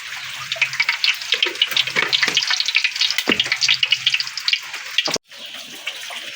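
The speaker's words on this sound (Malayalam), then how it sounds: "ആ ഉരുളിയിലേക്ക് നമ്മൾ ആദ്യം തന്നെ ഓയിൽ ഒഴിക്കണം" Hot oil sizzles and crackles steadily in a heated urli pan as a masala is started, a dense close frying hiss with a brief break near the end.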